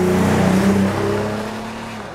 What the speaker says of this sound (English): What surprised me most with this Cayenne is the way that it drives